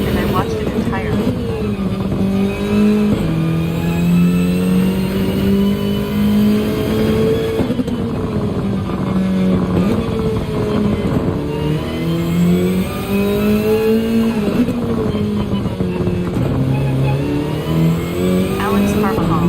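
Racing car engine in Gran Turismo during a Nurburgring online race, revving and shifting through gears with rising and falling pitch, loud and continuous for the whole stretch, with voices talking over it.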